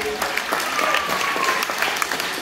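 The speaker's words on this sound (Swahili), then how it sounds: "Unaweza tu ukamnyanyulia mkono mmoja na wa pili ukamchapia Yesu makofi." A church congregation at an evangelist's sermon claps hands in praise of Jesus, a dense, steady burst of applause with a faint tone running through part of it.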